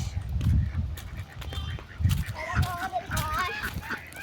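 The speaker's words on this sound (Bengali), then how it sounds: "এই দেখো আমাদের হাঁস।" Ducks quacking and honking in repeated bursts close by, with rhythmic calls rising and falling, and a voice speaking briefly beneath them.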